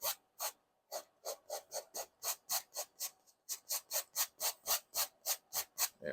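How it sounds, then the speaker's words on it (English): A painting knife scrapes oil paint down a canvas in a wet-on-wet landscape, about twenty short, raspy strokes at a steady brisk rhythm, close and moderately loud, with no talking. "Just scrape that color down."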